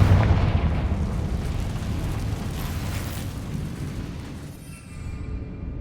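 The Confringo explosion spell in Hogwarts Legacy lands as a deep, rolling blast that dies away into a long rumbling tail, fading toward the end before a softer swell returns.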